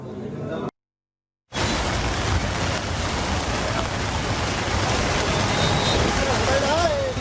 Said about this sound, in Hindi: और मूसलाधार बारिश परेशानी का सबब बनी हुई है।